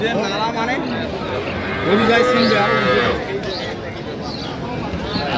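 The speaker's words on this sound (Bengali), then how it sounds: "আর গরুটি দেখছেন" A cow at a rural cattle market for dairy cows and calves lets out one long, loud, close moo in the middle, with market chatter and voices around it.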